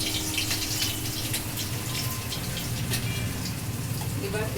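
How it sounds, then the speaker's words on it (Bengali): Garlic frying in smoking-hot oil for a leafy greens stir-fry, a steady dense hiss and crackle holding at an even level throughout, close and loud with no talking. "প্রথমেই আমি তেলে আগে একটু রসুনটা ফোড়ন দিয়ে নিলাম।"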